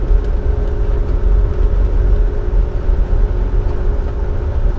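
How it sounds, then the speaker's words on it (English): A Volvo D13 engine in a dump truck with an Allison transmission, driving on a quarry run: loud, continuous low rumbling drone with steady road noise and no talk over it. "So how do you like the Volvo engine crispy sound?"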